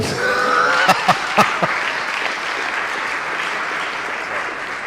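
Conference audience applauding after a talk on financial access and Bitcoin; a full, even wash of clapping runs throughout, with a few sharp louder claps near the start and a faint voice early on.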